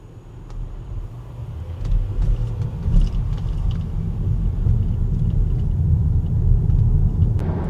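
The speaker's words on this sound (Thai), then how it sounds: "ตอนนี้กำลังขับลงจากทางหลวงดอยขุนตาลนะครับ" An AION V electric car driving downhill on the Doi Khun Tan mountain highway, heard from inside as a steady low road rumble and tyre noise that swells slightly and holds throughout.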